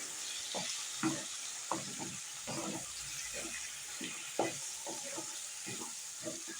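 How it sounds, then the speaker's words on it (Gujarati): Brinjal-potato curry being stirred with tomatoes and green garlic in a large wedding-style cooking pot: rhythmic, close scraping strokes of the ladle repeating about every half second over a faint sizzle, no speech. "હવે ટમેટા અને લસણ આની સાથે મિક્સ કરી લઈશું"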